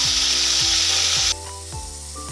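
Tomatoes frying in a pan for a fish curry, a loud, steady close sizzle that drops abruptly in brightness partway through and continues more softly.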